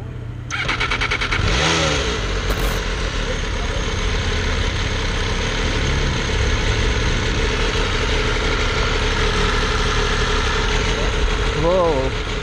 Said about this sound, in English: Okay, so it's time to ride the MV Agusta. Let's start it up.